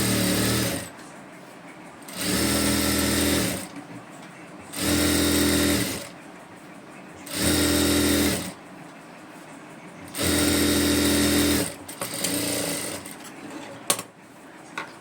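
Sewing machine stitching piping on a blouse back neck, running in five distinct bursts of steady whirring with short pauses between, close and loud.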